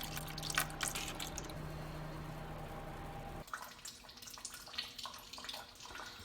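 Coolant from a 1996–1999 Buick LeSabre's GM 3800 Series II engine trickles and splashes steadily into a container, faint and continuous, with no talking.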